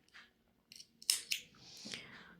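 Scissors snip off excess crochet yarn with a couple of quick, faint, close-up cuts amid soft handling noises.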